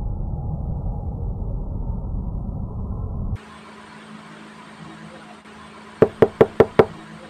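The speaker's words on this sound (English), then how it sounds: "Who's knocking the door, Gilbert?" A steady engine-like drone cuts off abruptly, leaving a quiet room tone, then five sharp, evenly spaced knocks on a door ring out near the end.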